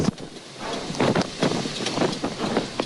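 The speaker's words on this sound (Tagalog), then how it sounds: "Kita sa galaw ng mga puno ang paghagupit ng tila nagngangalit na hangin." Strong typhoon wind lashing trees in Aparri, Cagayan, a loud, steady roar with surging gusts and rustling bursts throughout, no voices.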